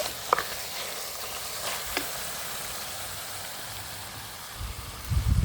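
Meat curry stirred in a pan after water goes in, producing a soft, even bubbling hiss with a few faint scrapes and a louder stirring rumble near the end, with no speech.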